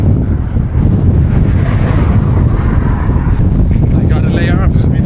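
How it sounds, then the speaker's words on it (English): Strong wind roars steadily into the microphone while cycling in remote China, a loud, continuous buffeting rumble with a voice partly audible beneath it. "I mean, look at this. This wind."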